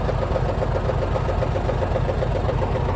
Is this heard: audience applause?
no